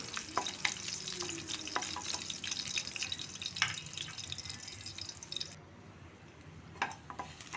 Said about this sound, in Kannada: ಬೆಳ್ಳುಳ್ಳಿ ಹಾಕಿ ಸ್ವಲ್ಪ ಫ್ರೈ ಮಾಡಿ